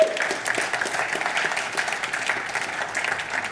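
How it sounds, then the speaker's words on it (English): A church congregation gives a round of applause after a sermon remark, steady moderately loud clapping from many hands with no talk over it. "I think that deserves a round of applause."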